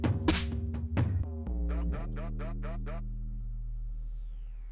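An 808 bass from a dirty sampling engine ends a track: crunchy distorted drum hits and a sustained, rumbling low bass tone that rings out and slowly fades, with no talk over it.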